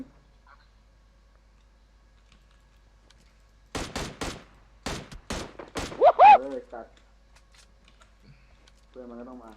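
Gunfire in PUBG Mobile: a few sharp, separated shots cracking in quick clusters midway through, fairly close, with players talking excitedly around them and quiet gaps before and after.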